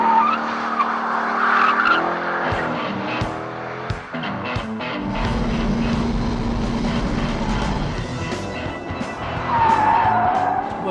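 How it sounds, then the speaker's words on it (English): 2002 Chevrolet Z06 Corvette on test at Grattan race track: a car engine revving up and down with shifting pitch, tyre squeal and a deeper sustained roar midway, loud and nearby. "for the engineers and technicians testing the 2002 Chevrolet Z06 Corvette, Grattan? Well, Grattan rocks."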